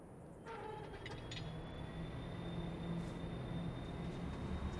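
A train runs in Farming Simulator 22, giving a steady low rumble of rolling wagons with a faint high whine, after a few brief clanks at the start.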